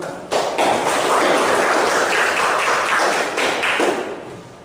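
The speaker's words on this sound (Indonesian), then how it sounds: "Silakan tepuk tangan dulu." A junior high school class claps together in a classroom, the clapping bursting in suddenly after a brief quiet moment, then holding loud and busy before tapering off near the end.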